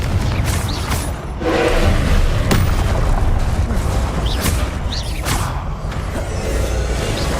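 Repeated Confringo fire spells in the Hogwarts Legacy video game, a dense run of booming blasts and crackling impacts over a continuous rumbling battle bed, loud and close.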